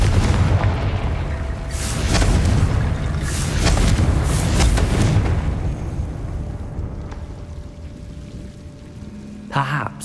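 A Confringo blasting curse from Hogwarts Legacy erupts in a long, loud, rumbling burst of fiery booms that rolls on for several seconds before fading, with a sharp magical chime near the end.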